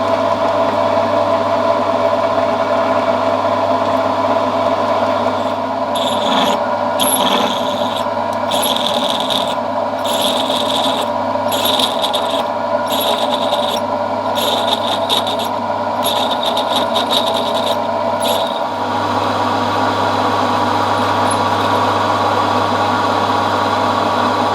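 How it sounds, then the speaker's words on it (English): Milling machine drilling parts set on a dividing plate, a steady mechanical hum and whir throughout, with a series of short, rhythmic scraping bursts in the middle. "putting the dividing plate on the mill and start drilling out all these different pieces"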